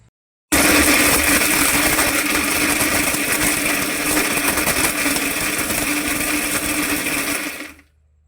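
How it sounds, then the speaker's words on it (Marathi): A mixer grinder blitzes leftover chapati pieces into fine semolina-like powder, a loud steady whirring roar that starts abruptly, holds for about seven seconds, then winds down. "हे मिक्सरच्या भांड्यात सर्व टाकून देऊ आणि बारीक असं रव्यासारखं करून टाकू"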